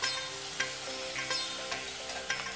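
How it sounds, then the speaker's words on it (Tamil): Grated coconut sautéed in a pan as a kozhukattai filling for Vinayagar Chathurthi, giving a steady soft sizzle with occasional scraping stirs of a spoon against the pan, close by and without talk. "ஸோ இது நல்லா வதக்கிடலாம்."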